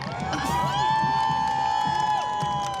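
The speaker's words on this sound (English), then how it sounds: "You can see here there's a crowd of people shouting and rooting" A crowd of people shouting and cheering at a Scottish parade, heard up close, with a sustained high whoop or whistle-like cry over a murmuring, cheering crowd for a few seconds.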